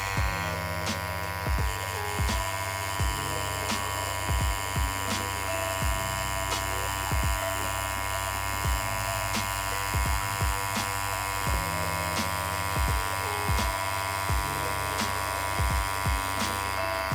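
A tattoo machine lining solid lines on real skin gives off a loud, steady electric buzz, broken by regular rhythmic pulses as the needle works, close up and continuous with no voices.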